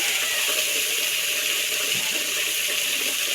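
Water poured into a pan of tengra fish curry with drumsticks and bitter gourd, a steady close rushing pour that runs unbroken throughout, with no talk.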